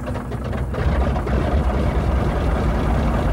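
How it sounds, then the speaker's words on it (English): A 600 hp supercharged Pratt & Whitney radial engine on a T-6 aircraft runs as a loud, steady, throaty low rumble close by, with no talk over it. "listen to the throaty sound of a 600 horsepower supercharged Pratt & Whitney engine coming to life"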